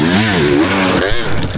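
A Surron Ultra Bee electric dirt bike climbing a steep, rutted hill, its loud close whine rising and falling in pitch as the rider works the throttle.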